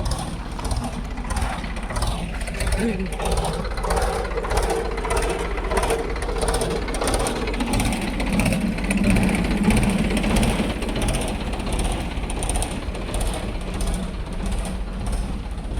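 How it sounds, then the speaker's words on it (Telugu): A tractor's diesel engine runs steadily throughout with a rough, chugging low rumble and mechanical rattling, loud and close, with no talking. "సౌండ్ ఏంటి అనుకోవద్దు, ట్రాక్టర్ సౌండ్ ఇది"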